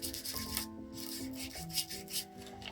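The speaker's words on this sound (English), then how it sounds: "sand it a little bit. Just around the edge." Paper bag envelope edges rubbed with sandpaper in short repeated scraping strokes, close and steady, with no talking.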